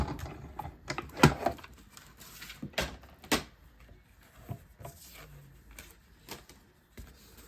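Cardstock inside a 3D embossing folder, fed with a number 4 plate through a hand-cranked embossing machine, gives a series of irregular clicks, creaks and thumps at close range. The quiet rolling crunch sounds on and off for several seconds, with no talking.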